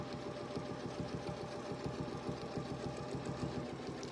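Sewing machine stitching a quarter-inch quilt seam, a steady fast rhythmic needle clatter running continuously and fairly quiet, with no talk over it.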